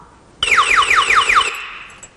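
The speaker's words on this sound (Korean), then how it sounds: "이 제품이 이제 45도 이상 기울거나 누가 가져가면 경보음이 울리게 되어 있습니다" A product's anti-theft alarm, set to trip when the unit is tilted past 45 degrees or carried off, blares a fast series of about six loud descending electronic chirps for roughly a second before cutting off.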